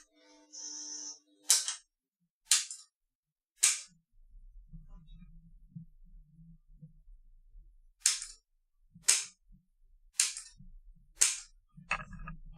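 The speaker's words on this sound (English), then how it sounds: "I just really love the sound of switching relays" Relays on a finished Tesla coil base switch with sharp, crisp clicks, four spaced clicks, then a low hum, then five more clicks at a steady pace, loud and close with no talking.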